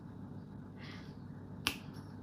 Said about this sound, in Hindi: ऐसे चुटकी।